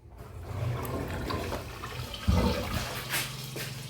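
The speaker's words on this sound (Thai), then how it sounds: "ท่อน้ำเสียไอ้น้ำมันสิไหลออกพุ่นบ่" Water rushes steadily through a newly installed drain pipe at a house, a continuous gushing flow with a brief louder surge midway, close and fairly loud, with no talking.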